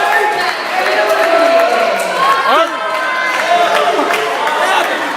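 A wrestling crowd cheering and chattering at a live match, a loud sustained roar of many voices with an excited rise and fall, and a nearby voice speaking over it.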